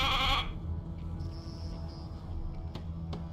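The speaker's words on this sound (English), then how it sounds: "Hey, a sheep!" A sheep in the video game Divinity: Original Sin 2 gives one short, close bleat at the start, followed by quiet game ambience with faint chimes.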